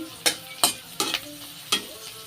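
Onions fry on a medium flame until brown, with a steady quiet sizzle broken by four or five sharp scraping stirs of a spoon in the pan, spaced unevenly, with no voices.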